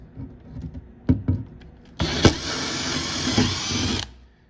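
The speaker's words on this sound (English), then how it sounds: "That's gonna be a pilot hole because we want to go and drill from the top." A few light knocks, then a power drill whines loudly for about two seconds while boring a pilot hole for installing a microwave hood before spinning down.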